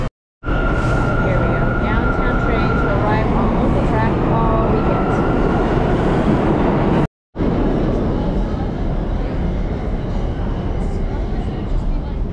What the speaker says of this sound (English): Downtown trains arrive on local track all weekend.